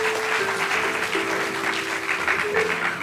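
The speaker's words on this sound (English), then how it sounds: "One more round of applause for our broadcasting team." An audience applauds a broadcasting team, with steady, fairly loud clapping from many people that continues evenly throughout, with a faint tonal hum running beneath it and no speech.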